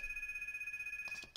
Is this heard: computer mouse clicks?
no